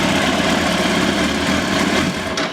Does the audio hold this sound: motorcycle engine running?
yes